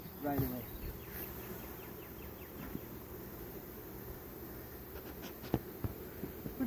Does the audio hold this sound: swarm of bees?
yes